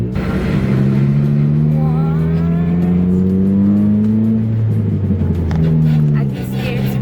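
A lowered stance car reverses slowly straight backwards, its engine droning steadily and loud throughout, with people talking over it.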